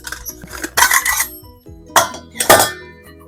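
A metal spoon clinks against a pot several times while dough is dropped into hot oil for a pink evening snack, with bright sharp strikes in two clusters and no talking.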